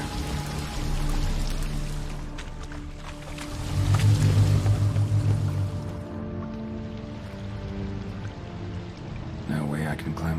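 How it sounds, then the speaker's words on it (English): A waterfall flowing upwards in a video game sounds as a continuous rushing, pouring wash of water that swells louder in the middle, with low droning tones underneath. "A waterfall flowing upwards?"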